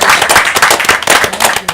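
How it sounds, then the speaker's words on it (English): Studio audience clapping for United States military veterans, a brief, dense burst of applause that stays steady and fairly loud throughout. "Hey, let's give them all a round of applause."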